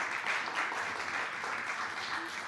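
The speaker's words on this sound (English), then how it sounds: "let's please give a quick round of applause for our co-facilitators" A workshop audience claps in a steady, dense round of applause for the co-facilitators, fairly quiet and even throughout with no talk over it.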